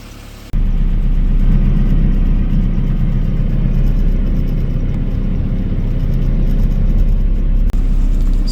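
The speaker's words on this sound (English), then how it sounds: "we let her warm up and give her a rev" A Mini's engine, fresh from an idle air control valve cleaning, starts up and settles into a steady, loud low rumble while warming, with a brief dip near the end and no voices.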